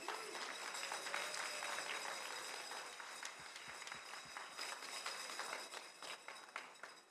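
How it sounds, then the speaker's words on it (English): A roomful of people at an AmeriCorps service celebration applauds, a faint but continuous crackle of many hands with a few heavier thumps partway through, heard from some distance. "So please give yourselves a round of applause."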